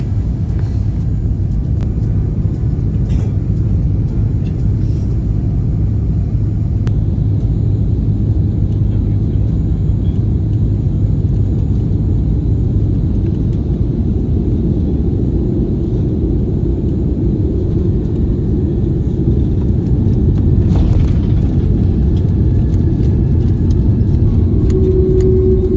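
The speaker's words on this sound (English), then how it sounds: "This is the footage of our approach and landing into Sydney." Qantas Airbus A330-200 landing at Sydney airport, heard from inside the cabin as a steady, loud low rumble of engines and airframe with a brief swell of noise near the end, no talk.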